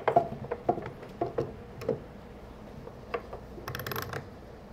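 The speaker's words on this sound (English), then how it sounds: "you may want to take and put some pieces of wood on each side of this" Wooden pieces for an Adirondack chair clatter and knock together during assembly, a series of short close clicks and taps in irregular rhythm, followed by a brief rattling clatter near the end.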